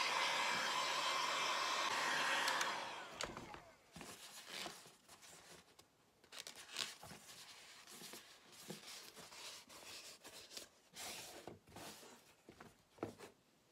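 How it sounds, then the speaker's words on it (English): A heat gun blows with a loud, steady roar for about two and a half seconds while warming a foam cosplay helmet visor for shaping, then stops, followed by quieter handling rustles and scrapes of the foam. "I'm now going to heat this and do some shaping of the visor to help it relax"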